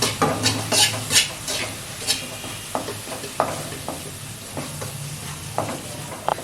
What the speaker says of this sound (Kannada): ಸ್ವಲ್ಪ ತುಪ್ಪ ಹಾಕ್ಬಿಟ್ಟು ಹುರ್ಕೊಳ್ಳೋಣ. ನೋಡಿ, ಶುಂಠಿ ಬೆಳ್ಳುಳ್ಳಿ ಪೇಸ್ಟ್ ಹಾಕ್ತಾ ಇದ್ದೀನಿ.